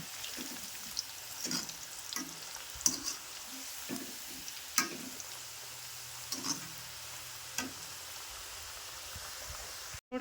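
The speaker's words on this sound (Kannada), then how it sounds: "ಸ್ವಲ್ಪ ಈ ರೀತಿ ತಿರು ಹಾಕೊಂಡು ಫ್ರೈ ಮಾಡ್ಕೊಳ್ಳೋಣ" Potato french fries sizzle in hot oil in a soft, steady hiss, broken by a string of clinks and scrapes as they are moved around, with no talking.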